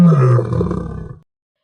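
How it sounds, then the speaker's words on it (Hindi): A lion in a forest lets out a loud, deep roar, one sustained guttural burst that trails off after about a second, heard alone. "ऐसा कहकर उसने जोर से दहाड़ लगाई।"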